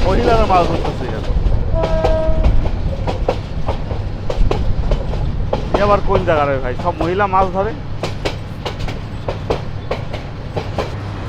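A passenger train, the Paharika Express, rumbles and clacks along the rails with a loud horn blast early on and a few more short toots, as someone talks briefly over the running noise.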